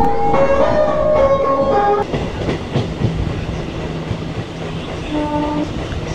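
A local train departs Liluah station on the Howrah to Tarkeswar line. Loud horn blasts open it over a heavy rolling rumble, and a shorter horn call returns near the end.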